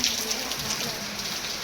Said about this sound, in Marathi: पाऊस म्हणजे इकडला खूप भारी पाऊस आहे.